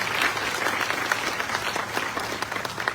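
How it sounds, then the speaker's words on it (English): Audience applause fills a room at a county commission small business address, dense steady clapping from many hands throughout, fairly loud with no talking. "Let's give them a big round of applause."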